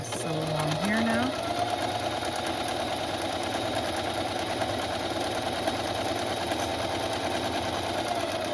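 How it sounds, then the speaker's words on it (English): A sewing machine stitching along upholstery fabric runs as a steady, close mechanical whir, with a person briefly speaking over it near the start. "Okay, we'll sew along here now."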